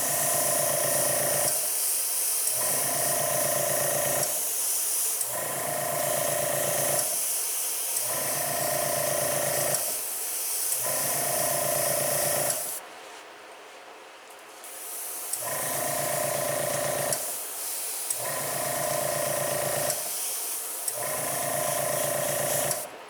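An airbrush sprays Createx white paint onto an Arctic Cat ATV seat in repeated short hissing bursts, about a dozen evenly spaced pulses with brief pauses, one longer gap midway, close and steady.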